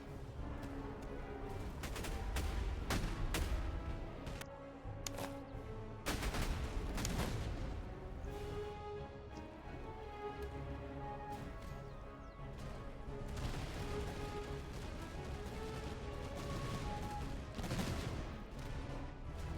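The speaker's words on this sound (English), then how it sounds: "Okay, they can open up fire now." Massed troop musket volleys in the Napoleonic strategy game Master of Command during the Austrian campaign, with dense crackling bursts and heavy booming shots repeating throughout, loud and busy with no pause.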